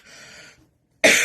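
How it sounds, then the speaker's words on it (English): A single harsh morning cough bursts out close and loud after a brief quiet stretch, preceded by a faint breathy, throaty sound. "Regular morning cough"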